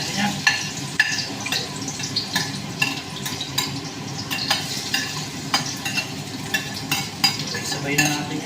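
Garlic and onion fry in a pan for spaghetti sauce, a continuous sizzle broken by regular scraping strokes of a utensil stirring against the pan, close and moderately loud.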